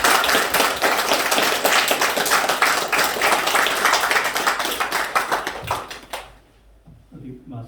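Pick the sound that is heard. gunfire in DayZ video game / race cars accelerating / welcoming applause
welcoming applause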